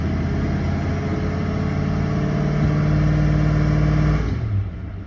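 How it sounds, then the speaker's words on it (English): A car engine held at wide open throttle with the transmission in reverse for a stall test, droning loud and steady for about four seconds, then dropping abruptly to a lower idle near the end. "and let's go wide open throttle"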